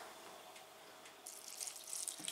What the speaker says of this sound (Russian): вода так отскакивает.